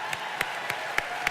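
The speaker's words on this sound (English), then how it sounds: "Give them a round of applause." Audience at an indoor rally gives sparse applause, a handful of separate claps spaced evenly about every quarter second, fairly faint.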